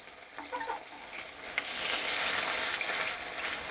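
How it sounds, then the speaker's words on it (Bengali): Food frying in a pan, a continuous hiss that grows louder after a soft start, with a brief clink and a few small pops over the sizzle. "এটা একটা পিঠ ভাজা হয়ে গেছে, এবার আমি এটাকে উল্টে দিচ্ছি।"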